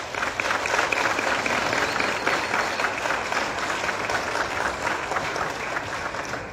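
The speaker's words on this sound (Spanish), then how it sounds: "Muchas gracias y un aplauso a todas ustedes también." Sustained applause from an audience at a government event handing out breast prostheses, steady dense clapping throughout with a faint murmur of voices underneath.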